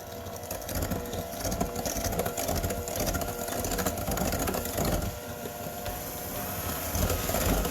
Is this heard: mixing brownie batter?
yes